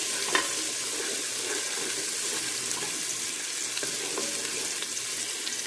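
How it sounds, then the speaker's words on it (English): Chopped onions sizzle and crackle in a little hot oil for pumpkin soup, steady frying hiss with light stirring scrapes throughout, close and continuous with no talk. "I'm going to add in some of the chopped onions"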